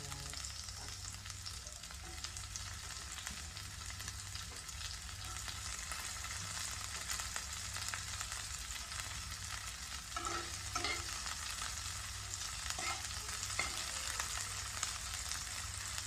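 Garlic and onion sauté in a pan for a sardine dish, sizzling steadily and faintly with occasional stirring scrapes and no talk.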